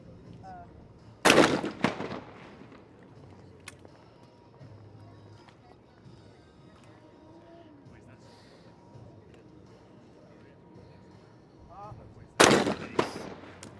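Two loud shotgun shots ring out at a trap shooting team final at a World Cup event in Lima, Peru, roughly eleven seconds apart, with an announcer talking over the quiet ambience between them.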